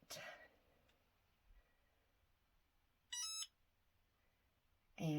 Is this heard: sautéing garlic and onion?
no